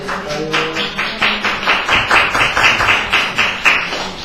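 People at a philosophy seminar applaud steadily, with a rhythmic run of close, loud hand claps that keeps an even pace throughout and has no talking over it.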